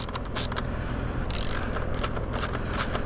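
A ratchet clicks in quick bursts while tightening a Tusk tail tidy bracket on a Honda CRF450RL motorcycle, crisp pawl ticks close by over a steady background hum, with no talking.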